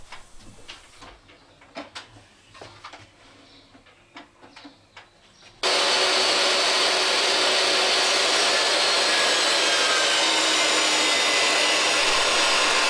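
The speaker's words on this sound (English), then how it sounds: "Here I'm taking each 2x10 and ripping about 3/4 of an inch off of each side, so that the final board is exactly 8 inches wide." A power saw rips strips off both edges of 2x10 wood boards outdoors; after several seconds of quiet ambience it starts abruptly and roars loudly and steadily through to the end, with no talking.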